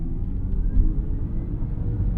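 A 2025 Hyundai IONIQ 5 electric crossover accelerating hard from a standstill, heard from inside as a loud, steady low road and motor rumble with a faint rising whine, no talking.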